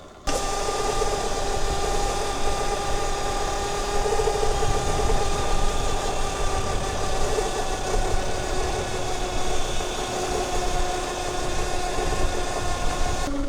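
A Zero FXS electric motorcycle converted to chain drive runs with a steady mechanical whine and constant hum from the chain and motor, holding an even level throughout with no speech.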